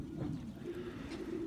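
Pigeons coo steadily inside a loft, a soft, low, continuous burbling that stays close and even throughout, with no voices over it.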